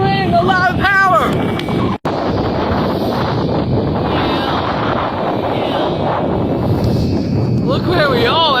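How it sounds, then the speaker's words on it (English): Strong gusting wind buffets the microphone beneath a tall wind turbine in open country, a loud continuous roar with a brief dropout, and a voice speaks at the start and again at the end. "It is so windy right here underneath this wind turbine."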